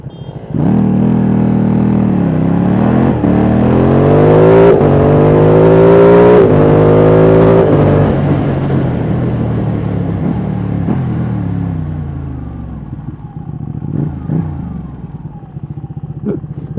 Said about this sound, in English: I'm riding an 1199 Panigale.